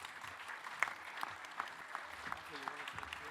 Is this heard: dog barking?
no